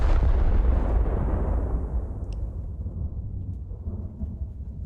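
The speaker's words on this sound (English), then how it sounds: "Took off half its crew with one salvo." A battleship's main gun salvo in World of Warships on a dev server, a deep, heavy boom that opens loud and rolls off into a long rumbling decay.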